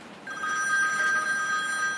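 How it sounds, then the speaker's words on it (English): An old-fashioned telephone bell rings steadily on an outgoing call to a police department, a continuous electric trill heard alone at moderate loudness for the whole stretch. "Ringing the police department."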